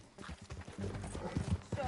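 Horse hooves clip-clopping at a walk in Red Dead Redemption 2, an uneven run of soft hoof knocks close by, mixed with low voices.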